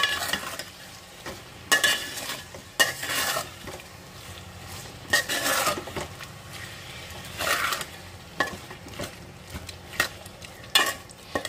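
Mutton handi being stirred in a pan with chili added: repeated scraping strokes of a spoon against the pan over a low sizzle, in irregular bursts, close by, with no talking.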